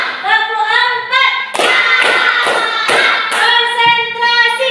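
Children in a classroom clap hands in a counting rhythm game: a few sharp, loud claps in a quick even pattern, heard amid their chanting voices.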